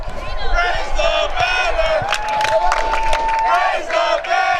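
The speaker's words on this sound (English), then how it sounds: "You can hear the fans cheering" Soccer fans cheering after their team clinches the championship, a loud crowd roar of shouts and whoops with rising and falling bursts of voices close by.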